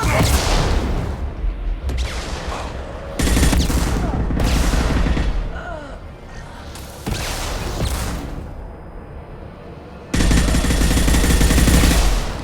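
Heavy weapon fire in the Mass Effect 2 video game: loud bursts of shots and booming blasts come in several close clusters, with whooshing projectiles and a few brief voices in between.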